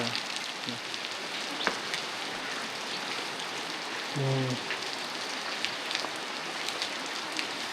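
Steady rain patters down on a surface in a mountain village, a constant close hiss with scattered drips, and a brief low rumble midway; no one speaks.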